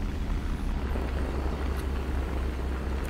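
A D-500 airplane engine in the War Thunder video game, flying an underpowered airframe, gives off a steady, continuous droning rumble that stays at an even loudness throughout, with no talking over it.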